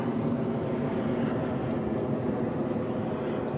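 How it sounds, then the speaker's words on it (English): A jet aircraft passes overhead on a lake during bass fishing, giving a steady broad roar that stays loud and constant for the whole stretch, with faint bird chirps above it and no speech. "There just happens to be a jet flying over too."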